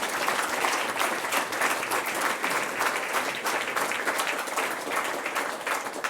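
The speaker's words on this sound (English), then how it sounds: "Let's give them all a round of applause." A hall audience at the Finance For The Future Awards 2021 applauds the slate of award candidates: dense, steady clapping from many hands that holds at an even level for about six seconds, with no voice on top.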